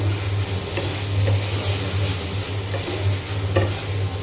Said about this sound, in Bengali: এখানে যে লাল শাক ভাজিটা হয়ে গিয়েছে